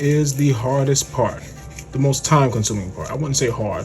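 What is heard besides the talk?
None of the usual background noises is heard.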